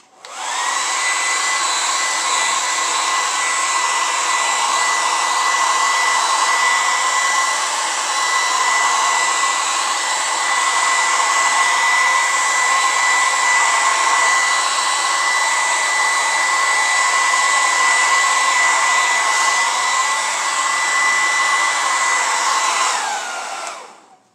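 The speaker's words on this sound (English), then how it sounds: "I'm gonna blow dry this real quick." A hair dryer blows steadily at close range for about twenty seconds, drying acrylic paint, a constant whooshing whine that cuts off abruptly at the end.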